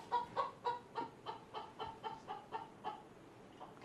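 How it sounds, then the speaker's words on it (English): A chicken clucks in a steady rhythmic series of about a dozen short calls, close and fairly quiet. "While the chickens are in here sounding like this for the whole day."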